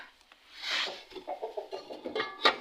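Hens clucking in a rural village farmyard in spring: a quick run of short, close clucks after a brief rising call, with no voices.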